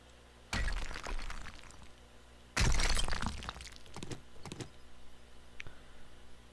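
Rock mining in the video game 7 Days To Die: two sharp crunching strikes, each followed by crumbling debris, then fainter scattered clicks and knocks, with no speech.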